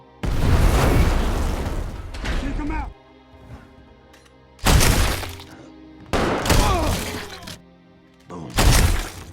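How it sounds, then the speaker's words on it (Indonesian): An explosion of a house's power supply in a film scene, delivered as several loud crashing booms and shattering bursts separated by quieter stretches with voices talking. "Kemudian Clint meledakkan sumber listrik rumah tersebut"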